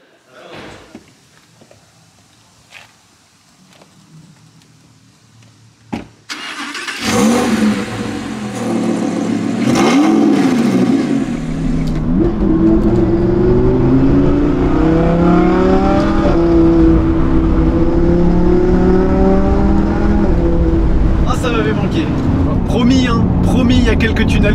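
A fully restored vintage Porsche 911 Carrera 2.7 catches after a few faint clicks, barks loudly to life, and then holds a strong revving idle with wavering engine tones. People talk through the clip.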